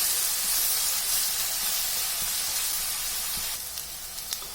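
Brinjal frying in oil gives a loud, steady, close sizzle and hiss with a few faint pops, easing off slightly toward the end.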